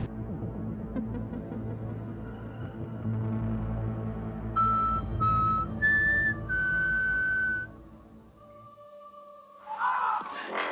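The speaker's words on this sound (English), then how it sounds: "what happens when you whistle at things that you shouldn't be whistling at" A person whistles a few sustained tones in short phrases over a low rumbling hum, fairly close, with no talking.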